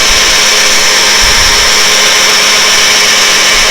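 A Tractor Supply electric chainsaw sharpener grinding a saw chain, a loud steady high-pitched whine with a constant motor hum underneath, running continuously and close up with no voices.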